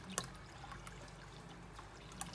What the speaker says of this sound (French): Je vais ouvrir, je vais verser et je vais déposer.